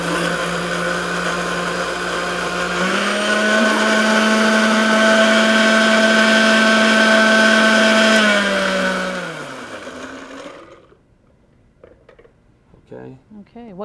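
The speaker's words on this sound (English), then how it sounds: "Just throw that in the blender." A blender purees homemade salsa for steak tacos, a loud steady motor whine that rises in pitch once running, holds for several seconds, then winds down and stops.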